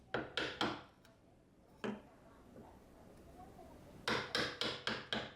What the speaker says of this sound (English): chiseling along the guide cuts